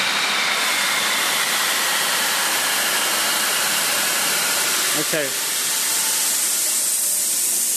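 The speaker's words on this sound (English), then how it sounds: "It sounds like an old-fashioned steam train, doesn't it?" Broadband steam-like hiss and rumble of a train standing at a station platform, sounding like an old-fashioned steam train, steady and loud throughout with a brief voice near the end.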